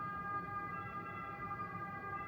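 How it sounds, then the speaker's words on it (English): An ambulance siren sounds in a street in Milan, a steady, faint wailing tone heard from some distance over low city rumble, with no voices. "Some sort of ambulance or something."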